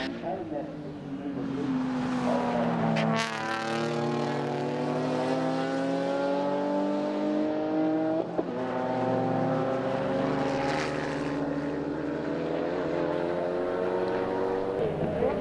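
Mazda RX-8 production race cars battle on a circuit in a Western Australian sporting car club round, their engines a steady, loud drone whose pitch climbs and dips as they accelerate and pass, with no break for the whole stretch.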